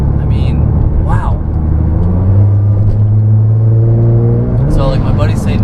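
A 2018 Nissan GT-R with all-wheel drive accelerates hard, its engine note climbing steadily and then dropping at a shift, loud and heard from inside the car with road rumble underneath.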